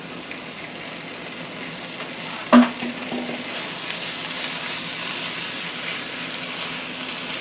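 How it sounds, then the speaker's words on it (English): Steady close sizzling and frying in a pan for a Texas walking taco casserole as rinsed, drained black beans go in, with one sharp clunk early on. "Now I'm going to add the black beans, what I have rinsed and drained."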